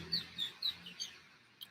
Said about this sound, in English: I'm just out here listening to the birds